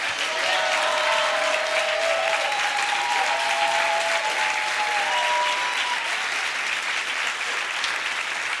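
A church congregation applauds steadily, a dense, even patter of many hands clapping at moderate loudness for several seconds without letup, with a faint tonal hum underneath.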